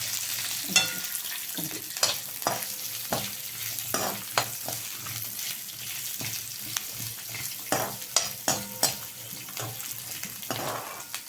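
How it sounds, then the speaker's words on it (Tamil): Small onions, ginger, garlic and tamarind fry in a pan for beans kottai kuzhambu, a low sizzle punctuated by repeated sharp scraping and tapping strokes from stirring, close and fairly loud. "வெங்காயம், இஞ்சி, பூண்டு, புளி வச்சுருக்கோம் இல்லைங்களா, அதையும் வறுத்துடலாங்க"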